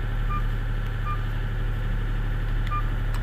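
Keypad beeps from a Vgotel S500 feature phone's calculator, three short evenly spaced tones over a steady low hum, with no talk.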